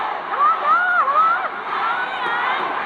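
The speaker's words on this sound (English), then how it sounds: "The Malaysians here are cheering for a goal." Malaysian supporters cheer in a stadium during a women's football match against Laos. The crowd roar is moderately loud and steady, with a few raised voices shouting over the top.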